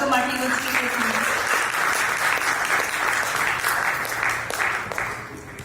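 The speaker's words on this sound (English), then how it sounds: "give it a great round of applause and welcome our keynote speakers" An audience at a leadership conference claps and cheers to welcome the keynote speakers, producing dense, sustained applause that fades slightly near the end.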